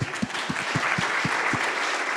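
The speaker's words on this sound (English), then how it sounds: "Can you all applaud yourselves for being here, please?" An audience at the closing session of a gathering applauds together, a steady dense wash of clapping that runs close and loud through the whole moment with no talking over it.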